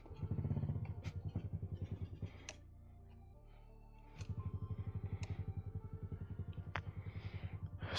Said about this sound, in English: Let's get this bike fired up.